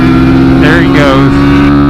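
Two-stroke engine of a lowered, stretched Kawasaki Z125 motorcycle racing on a kart track, a loud close buzzing drone with a brief rising and falling rev, a voice heard over it.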